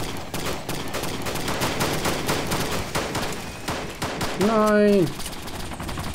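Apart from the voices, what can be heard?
gunfire in the video game Arma 2 DayZ Mod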